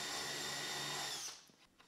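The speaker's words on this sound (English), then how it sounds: "I use a drill that already has a countersink in the combo so that it's just a one-step process." A power drill fitted with a combination countersink bit drives a screw into a floater frame assembly, whirring steadily and loudly for about a second and a quarter before spinning down and stopping, with no one talking.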